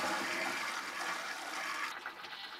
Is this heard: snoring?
no